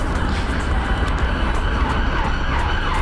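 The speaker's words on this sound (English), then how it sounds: "you'll be treated to some police sirens and noisy traffic for a bit" Busy roadside traffic along the Thames Path in London with police sirens wailing faintly in the distance, a dense steady roar of passing vehicles dominating throughout, no speech.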